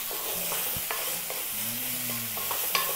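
Sliced leek and carrot get stirred in a frying pot for Polish sauerkraut soup, a steady sizzle beneath a few soft scrapes and light clinks of the utensil.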